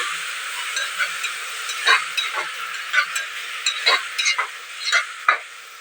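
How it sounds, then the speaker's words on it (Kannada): Small chopped tomatoes frying in a pan for tomato bath, a soft steady sizzle under repeated spatula scrapes and clinks in an uneven rhythm, close and alone. "ಚೆನ್ನಾಗಿ ಫ್ರೈ ಮಾಡ್ಕೊಳ್ತಾ ಇದ್ದೀನಿ."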